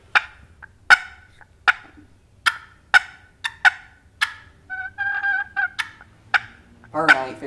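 Clucking on a turkey box call: single crisp, close clucks spaced about a second apart, with a brief rolling, trilled stretch midway and a final rattling note.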